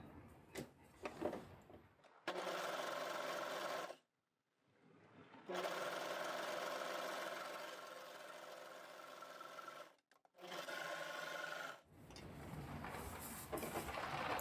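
An overlocker sewing machine stitches a seam in quiet bursts, its rapid whirring running in long stretches separated by short pauses.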